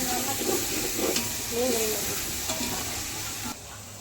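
Ginger garlic paste sizzles gently in a pan for chicken biryani with a faint steamy hiss and a few soft stirring scrapes, and a muffled voice murmurs briefly in the background.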